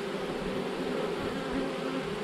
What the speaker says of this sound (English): All these bees with their tails up in the air and they're fanning.